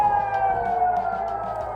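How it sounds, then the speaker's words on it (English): A steady air raid siren blares continuously in Israel during a missile attack, holding a sustained wailing tone at constant loudness throughout. "Soon, sirens began blaring in southern, central, as well as northern Israel."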